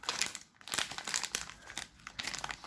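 Thin plastic packet crinkles and rustles continuously as it is handled up close, with a few brief pauses and sharper crackling bursts, no talking.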